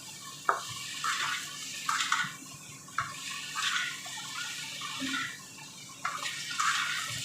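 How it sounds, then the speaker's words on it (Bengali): A pan of bata fish curry with potatoes being stirred, giving soft scraping strokes and light bubbling and sizzling at a steady moderate level, with no one talking. "এবার এগুলো আমি একটুখানি নাড়ানাড়ি করে নিয়ে তারপরে হালকা ঢাকা দেবো"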